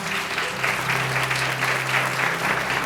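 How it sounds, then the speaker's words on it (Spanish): Church congregation applauding during a sermon, dense sustained clapping from many hands filling the room, steady and moderately loud with faint voices underneath. "puedes dar un fuerte aplauso a Dios"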